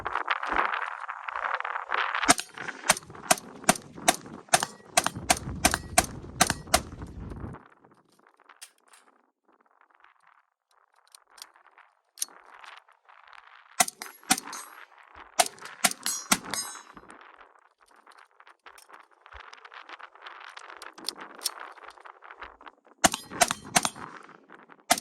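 Sharp gunshots from a Colt 727 clone AR-15 carbine crack in a rapid series, then sparser and fainter shots follow with gaps between them, loud and outdoors.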